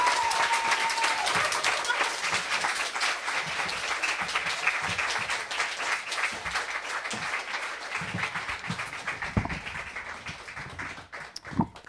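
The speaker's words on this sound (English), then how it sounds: "Let's give another round of applause for both of them." Audience applause fills a room after a poetry reading at a literary fellows and mentors event, steady dense clapping that carries on for the whole stretch and only thins slightly near the end, with faint voices mixed in.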